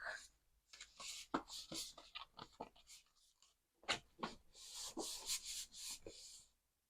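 Paper folded by hand for an autumn layered pocket flip book craft, giving close, crisp rustling and creasing in quick bursts separated by short pauses.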